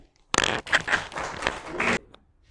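An audience at a poetry gathering claps for poet Haider Ali Wahedi, a brief, lively burst of applause lasting under two seconds before dropping to near silence.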